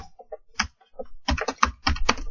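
Fingers type on a computer keyboard up close, sparse separate keystrokes at first and then a faster, denser run of clacks.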